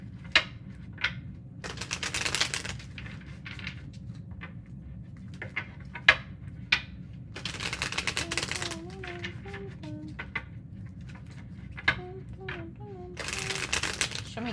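Tarot cards shuffled in bursts of papery riffling, each flurry brief and crisp, separated by pauses with faint tapping, while a voice talks quietly throughout.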